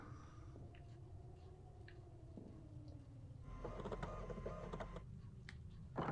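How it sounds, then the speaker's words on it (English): Faint mechanical printer whirring and clicking in the video game Murder House, with a soft hum and scattered ticks that swell into a busier clatter midway, heard quietly and alone. "Forgot about the printer noise."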